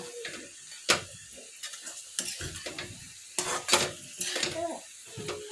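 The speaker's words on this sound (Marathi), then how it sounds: "आता यामध्ये कोथिंबीर टाकून घ्या आणि व्यवस्थित मिक्स करून घ्या" A spoon stirs steamed cabbage with peanut powder and coriander in a pan, giving a run of separate scraping, clattering strokes over a faint sizzle.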